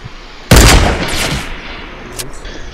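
Gunshots from behind the player in a shooter video game: one loud, sharp blast with a trailing echo, then a fainter pop about a second and a half later.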